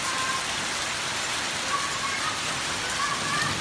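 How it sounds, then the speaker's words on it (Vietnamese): A heavy hailstorm pelts down on an afternoon during the Tet holiday in Tam Nông, Phú Thọ, a dense, loud, continuous roaring patter close by, with a faint voice underneath. "vô tình lại bắt được cái trận mưa đá giữa buổi chiều ngày mùng 1 Tết"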